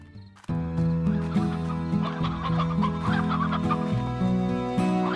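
Chickens in the video game Slime Rancher cluck steadily in a dense, overlapping chorus after a brief quiet opening, loud and close throughout with no talking.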